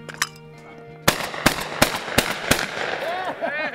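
Shotgun blasts at clay targets, five loud sharp reports spaced roughly a second apart, close by and outdoors, with a faint voice at the start.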